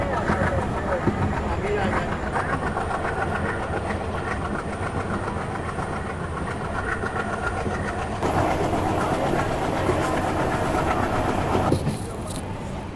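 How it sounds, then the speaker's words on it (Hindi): A passenger train runs on rails through dense forest in Bihar approaching Saraigarh station, with a steady close rumble and rhythmic wheel clatter, a faint high whine shifting partway, and someone talking over it. "तो अभी अपनी ट्रेन सरायगढ़ रेलवे स्टेशन पहुंचने वाली है।"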